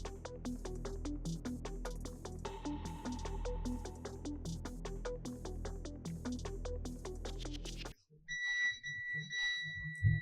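A multimeter in continuity buzzer mode beeps with a steady high tone, briefly and twice, while probing a dead Realme 11 phone board, heard after background music stops.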